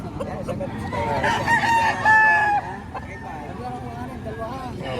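A rooster crows loudly and close by at a busy chicken market in Batangas, one drawn-out call rising over steady chatter and people talking nearby.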